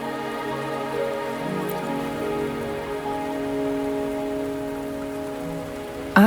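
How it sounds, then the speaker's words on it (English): Steady rainfall patters on surfaces in the Wuthering Waves game world, a dense even hiss with layered droning tones running beneath, holding constant for several seconds before a sudden loud burst at the end. "Don't worry, the rain won't last much longer."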